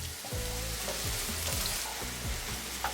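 Diced onions sauté in about a tablespoon of oil in a pan, giving a steady close sizzle with light stirring scrapes, partly under background music.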